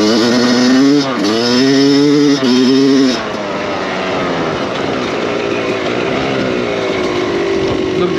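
A 125cc motorcycle ridden slowly on its first outing on a track, engine buzzing loud and close with rising and falling revs for the first few seconds before settling into a steadier, rougher drone.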